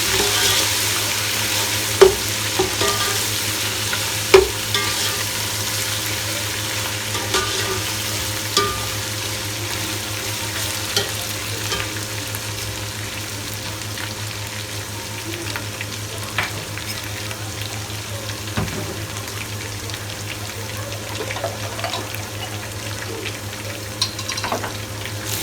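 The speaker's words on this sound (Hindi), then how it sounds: "ये देखें लहसुन अदरक फ्राई हो गया।" Garlic and ginger sizzle steadily in a hot pan, a constant frying hiss with occasional light clicks of stirring, and no talking.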